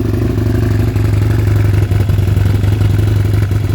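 A 105-horsepower modified supermoto motorcycle engine runs close and loud, a steady throbbing idle-to-rev drone with rapid rhythmic firing pulses throughout, no talking.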